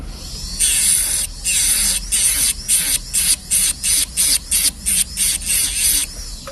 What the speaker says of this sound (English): Nice even sandpaper.